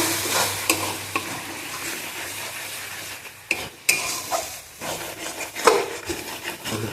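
Chicken frying with turmeric and spices while being stirred, a close, continuous sizzle with scraping and rubbing strokes of a wooden spoon and a few sharp knocks against the pan.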